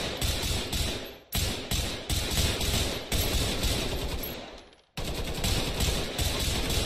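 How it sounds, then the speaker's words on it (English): Sustained automatic gunfire rattles almost nonstop in a staged firefight down an indoor hallway, loud and close, with dense bursts breaking off briefly around one and five seconds before resuming. "we gotta return fire"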